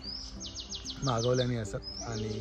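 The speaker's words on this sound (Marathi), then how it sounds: "तुमका पक्ष्यांचा आवाज येता की नाही माहीत नाही" Quick, high bird chirps repeat in a rapid descending series, nearby and clear, while a person talks underneath.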